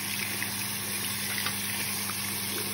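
Running water rinses soap off a metal-detecting find from East Prussia, a steady, even hiss of flowing water close by with no talking.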